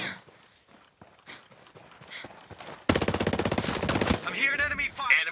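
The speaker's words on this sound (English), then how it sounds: "I'm hearing enemy fire." Enemy gunfire in a military shooter video game: a dense burst of rapid automatic fire lasting over a second, preceded by scattered footsteps and clatter and followed by ringing metallic echoes.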